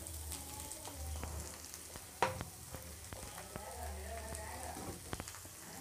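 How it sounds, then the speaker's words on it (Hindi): Grated cauliflower sizzles softly in a pan with fried fenugreek leaves, a steady crackling hiss punctuated by a sharp clink of a utensil partway through. "मेथी की पत्तियाँ थोड़ी सी फ्राई हो गई हैं।"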